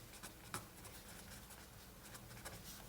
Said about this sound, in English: let me just write it down.